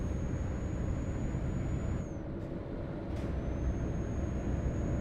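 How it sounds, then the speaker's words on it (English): Truck noise in Euro Truck Simulator 2: a steady low engine drone runs throughout under a thin high whine, broken by two brief hissing bursts near the middle, fairly quiet and with no talk. "my truck probably shouldn't be making noises like that."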